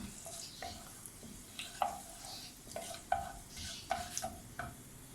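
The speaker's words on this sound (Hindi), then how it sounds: "अब इसके अंदर आधा चाय का चमचा मेथी दाना डाल दूँगी" Fenugreek seeds added to hot mustard oil being stirred in a pan, a faint steady sizzle with soft repeated scraping and clinking of the spoon, quiet and close.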